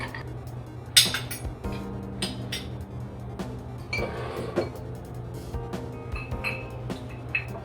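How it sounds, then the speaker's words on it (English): Ice being stirred in an Old Fashioned cocktail: light, irregular clinks and rattles of cubes against glass and a spoon, close by and continuous with a faint hum underneath. "you just want to go ahead and stir that cocktail"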